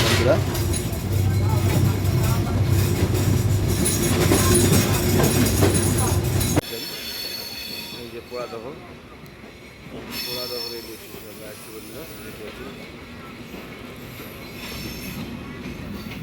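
Bangladeshi intercity train Rupsha rolls past near Alamdanga station, a loud dense rumble with squealing wheels for about six seconds before dropping off abruptly, leaving quieter rail and ambient noise with a voice talking.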